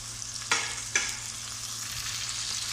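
Tomatoes added over fried onions crackle in a hot pan while making achari bhindi, a soft continuous sizzle with two sharp stirring clatters early on, fairly quiet and steady throughout.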